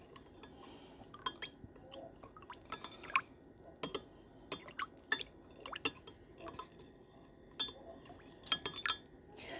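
Fir needle essential oil being stirred into a comfrey and St. John's wort balm, with a quiet scatter of sharp utensil clinks and taps against a container at an uneven rhythm, close and alone.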